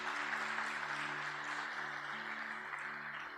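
A church congregation applauding, a dense, even wash of clapping that holds steady from start to finish, with faint voices underneath.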